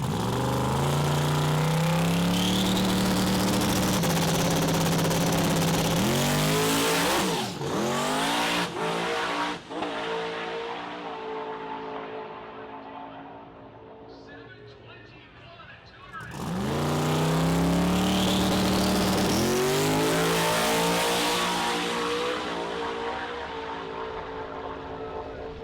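A drag racing car in the radial class launches and runs down the track at a street-car drag event, its engine roaring loud and steady, fading, then another surge of revving rises and holds to the end.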